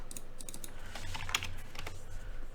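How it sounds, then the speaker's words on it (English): Computer keyboard typing in quick bursts of close key clicks with short pauses, over a low steady room hum. "Typing is hard."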